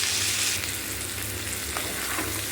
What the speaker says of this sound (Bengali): এবার আরও কিছুক্ষণ ভালো করে ভাজবো এটাকে